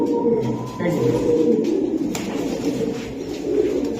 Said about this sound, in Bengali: এই যে আরেকটা কবুতর